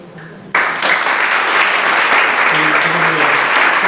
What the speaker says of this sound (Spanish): se merecen el mismo aplauso